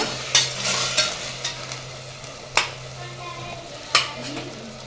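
Onion, ginger garlic paste and tomato sautéing in a pan for biryani, with a steady soft sizzle and sharp intermittent scrapes and clinks as the mixture is stirred.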